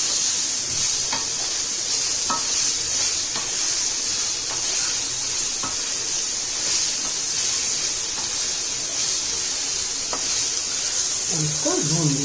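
Potatoes frying in a pan for an Indian aloo khasta recipe, a steady dense sizzle with occasional stirring clicks throughout, fairly loud and close, with a brief voice near the end.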